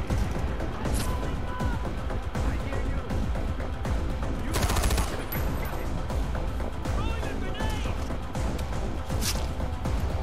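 Gunfire in the Far Cry 4 video game, a dense continuous barrage of loud shots and bursts mixed with game music and effects, close and steady throughout.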